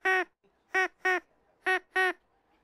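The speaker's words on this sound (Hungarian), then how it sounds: "Kacsa. Bizony, kacsa." A duck quacks five times, loud and close, in short nasal bursts with brief pauses between, two pairs and a single call.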